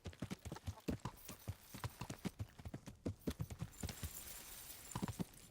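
Steady clip-clop of horse hooves in the video game Kingdom Come: Deliverance, a brisk rhythmic trot of sharp knocks, fairly quiet and heard alone.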